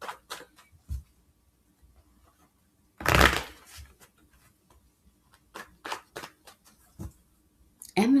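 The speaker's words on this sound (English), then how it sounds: "Now let me pull all the cards because that was just one." Tarot cards being pulled and shuffled by hand, with soft riffling bursts and a longer, louder shuffle in the middle followed by several brief card flicks, all fairly close and with no talking.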